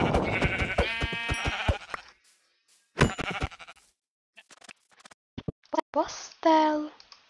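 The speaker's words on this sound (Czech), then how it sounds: "Ovce." Sheep bleating in Minecraft, several short nasal bleats near the end, preceded by someone talking and game clicks.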